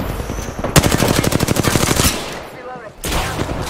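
Rapid automatic gunfire from the video game Apex Legends rattles out in a fast, steady burst of roughly two dozen loud shots, then stops, leaving a short lull before more game sounds return.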